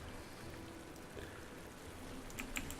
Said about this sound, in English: and you just make it rain.